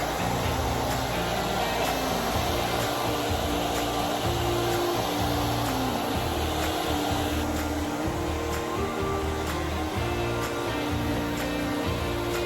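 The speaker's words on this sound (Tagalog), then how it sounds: "hair blower naman" A hair dryer blows in a steady, loud, continuous whoosh with a constant motor hum throughout, no pauses.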